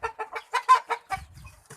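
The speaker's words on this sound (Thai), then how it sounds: "ไก่แม่ครับ ไก่ตัวเมียครับ" A hen clucks in a quick series of short, close pulses, about eight in a row, followed by softer rustling and one last cluck.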